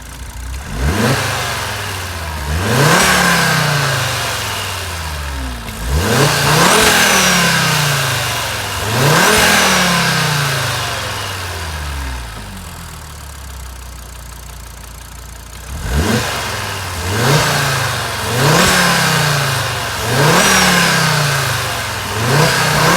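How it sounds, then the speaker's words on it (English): Engine of a high-mileage Audi TT RS 8J with a six-speed manual, revved repeatedly from idle in sharp bursts, with a quieter idle pause midway before another run of quick blips, close and loud. "Let me give you a quick rev."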